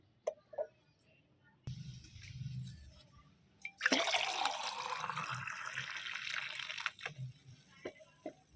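A few soft drips and knocks, then water is poured steadily into a container for about three seconds before trickling to a stop.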